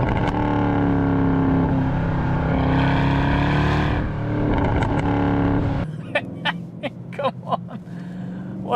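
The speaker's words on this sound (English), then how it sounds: "I have to launch it just one time." A Mercedes-Benz C63 AMG V8 roars hard and close through a launch, its pitch climbing and dipping for several seconds before dropping to a burbling idle punctuated by sharp pops and crackles.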